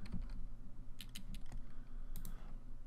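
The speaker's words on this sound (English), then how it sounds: "We'll type in handle. Maybe. Let's type in tinkers." Keys clatter on a computer keyboard as a search term is typed into a Minecraft modpack menu, short clusters of taps separated by brief pauses against a low background hum.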